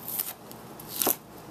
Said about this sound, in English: chopping the ginger. You have to really chop really tiny like as garlic.